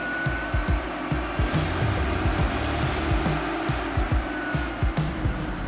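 A Toyota Tacoma engine pulls hard at wide open throttle on a tuning run, giving a steady drone with a thin high whine running over it and a repeated low thumping throughout.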